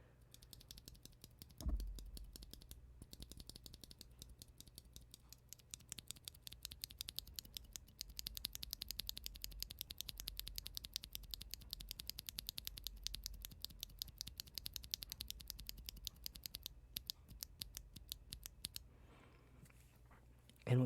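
A stock tactile mechanical keyboard switch pressed repeatedly right at the mic, giving a steady stream of sharp clacks and clicks with a brief louder thump near the start and no talking.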